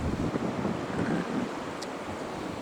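Cold, freezing wind blowing outdoors, a steady rushing roar buffeting the microphone throughout with no pauses and no voices.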